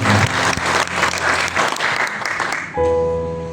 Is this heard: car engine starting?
no